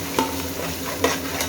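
Red and green chilli paste fries in a pan for kurmura chivda, a soft steady sizzle with a few brief stirring scrapes and clicks, no voices.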